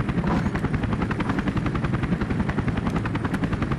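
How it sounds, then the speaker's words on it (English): In the video game 007 Agent Under Fire, a helicopter takes off with a loud, continuous, rapid rotor chop and a heavy whirring engine drone. The sound is close and steady throughout. "Chopper's gonna take off."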